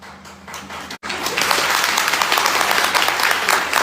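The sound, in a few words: audience applause, clapping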